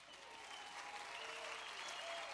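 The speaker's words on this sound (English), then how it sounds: "I just want to have a big hand of applause and a lot of noise for the EMTs and the police" An audience at a retirement celebration for a veterinary cancer center gives a big round of applause for EMTs and police officers, with dense, sustained clapping and some crowd noise that swells slightly toward the end.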